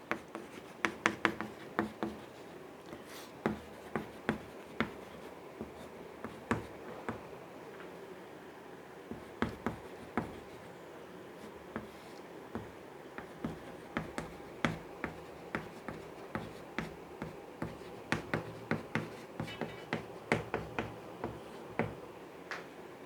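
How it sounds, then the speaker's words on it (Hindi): Handwriting an example sentence during a Hindi grammar lesson, heard as a long run of sharp, irregular pen or chalk taps and strokes, close and fairly quiet, with no talking. "मैंने एक वाक्य लिखा"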